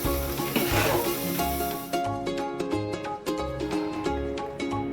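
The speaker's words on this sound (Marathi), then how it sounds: "शिरा थोडासा आपण परतून घ्यायचा त्याला" Semolina sheera being sautéed in ghee, a soft continuous sizzle with rhythmic stirring scrapes of a spoon in the pan, fairly quiet and close, no talk.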